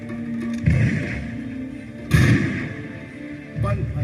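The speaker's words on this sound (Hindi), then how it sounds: "पल भर में नॉट बावर ने आजाद पर गोलियां बरसानी शुरू कर दी।" Gunfire in a dramatized police shootout with Chandrashekhar Azad in Prayagraj: a few heavy booming shots, separated by pauses, ring out over a music score.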